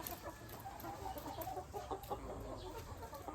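Chickens cluck softly inside a layer building, a faint scattered chatter of hens over a low, steady background rumble.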